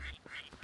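A duck in the video game Twilight Princess quacks about three times in a quick, evenly spaced series. The calls are clear and close, with no voices.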